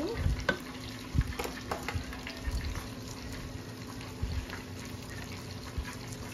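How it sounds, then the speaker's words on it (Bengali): Chopped chicken breast frying in a pan for fried rice makes a steady, close sizzle with a few sharp clinks and stirring knocks near the start. No one speaks. "আমি ফ্রাইড রাইসের জন্য কিছু চিকেন বুকের মাংস কুচি করে রেখেছি, এগুলো আমি দিয়ে দিচ্ছি। আবারও সব কিছুকে ভেজে নেব।"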